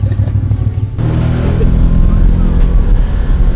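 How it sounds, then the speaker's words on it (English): A stock Lincoln Continental engine running near the microphone, giving a deep, meaty rumble that thickens and grows louder after a second, steady throughout, with a brief muffled voice early on. "this thing sounds pretty meaty for a stock, Like right? a Lincoln Continental."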